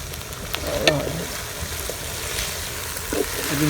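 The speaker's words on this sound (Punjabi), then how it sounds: "ਬੜਾ ਹੀ ਪਿਆਰਾ ਪੇਸਟ ਨੂੰ ਥੋੜਾ ਜਿਹਾ ਸੋਤੇ ਕਰ ਲਾਂਗੇ" Paste sautéing in a pan during a village-style yogurt chicken cook, a steady close sizzle with occasional stirring scrapes and pops.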